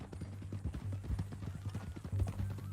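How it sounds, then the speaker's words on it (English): Horse hooves clip-clop at a steady walking rhythm in the Western video game Red Dead Redemption 2, close and fairly loud over a low ambient hum, with a faint voice briefly present. "That new horse?"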